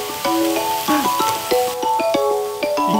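Abalone and pork belly sizzle and crackle on a camping grill, with bright pops and spits layered over a continuous frying hiss, close and fairly loud.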